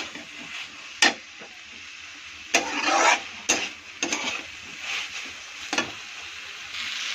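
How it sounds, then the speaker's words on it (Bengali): Boiled vegetables are stirred in a hot pan, giving a soft steady sizzle broken by sharp scrapes and clatters of the spatula, with no talking. "এখন আমি ফটাফট একটুখানি ভাজি করবো, যে ভাজা করবো শুধু।"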